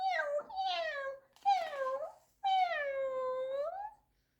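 A person imitates a cat with several drawn-out meows, three distinct calls in a row, close and clear against silence.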